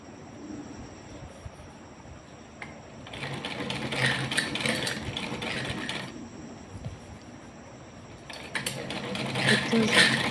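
A sewing machine stitches elastic into the waistband of palazzo pants, a steady mechanical whirring run that starts partway through, pauses briefly and picks up again near the end, close and fairly loud.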